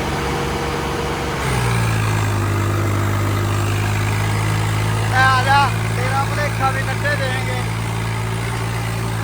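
A Swaraj 855 tractor engine pulls a harrow through a field, a steady loud low drone that steps up after a brief start and holds, with a voice talking briefly over it.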